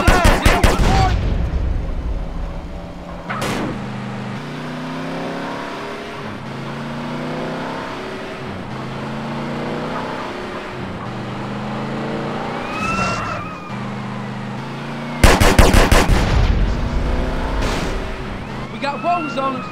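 Drive-by gunfire from a car in GTA San Andreas, with bursts of shots over a rumbling engine and a wailing police siren, alongside game voices and a loud shooting burst near the end.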